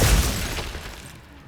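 Glacius freezing spell from Hogwarts Legacy lands with a brief shattering, icy burst that opens loud and fades over about a second amid game effects.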